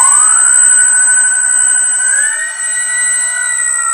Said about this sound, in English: we're gonna turn on our port motor first. And starboard now.